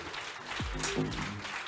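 Applause from an audience at a storytelling event, a steady, fairly quiet clatter of many hands, with a brief voice-like tone sliding through partway.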